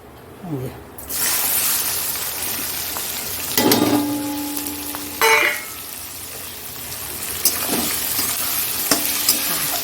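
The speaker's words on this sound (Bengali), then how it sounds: "এবার আমি পেঁয়াজটা দিয়ে দেবো" Onions drop into hot oil already holding fried cardamom, cloves and cinnamon for a chicken curry. A sudden loud sizzle follows, which then settles into a steady hiss with a couple of scraping stirs of a spatula in the pan.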